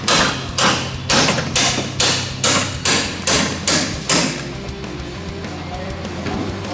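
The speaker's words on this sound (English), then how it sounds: "we're having to hold it up while we pound the original suspension bolt out" A hammer pounding an original front suspension bolt out of a DeLorean, about ten hard, evenly spaced metallic blows in quick rhythm, loud and close, with ringing thuds that soften toward the end, no talking.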